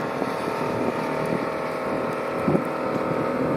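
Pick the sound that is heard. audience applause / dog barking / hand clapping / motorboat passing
motorboat passing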